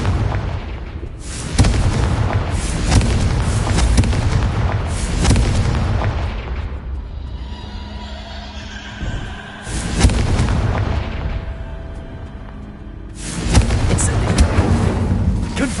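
Explosive Confringo spell blasts in the Hogwarts Legacy game, several loud booming bursts roughly every few seconds with rumbling tails, layered over game sounds and a voice calling out spells.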